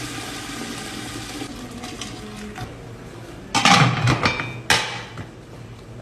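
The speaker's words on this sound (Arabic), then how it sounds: "نضيف الماء على خفيف، لا تضيفون الماء كذا دائري، لا، على جهة واحدة" Water poured gently down one side of a pot of rice for kabsa, a short splashing burst and then a second pour, loud and close after a quieter stretch of kitchen background.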